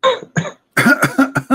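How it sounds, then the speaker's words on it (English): A person coughs hard several times: a short pair of coughs, then a brief pause, then a quicker run of four or five harsh, throaty coughs, close and loud with no talking. "cough"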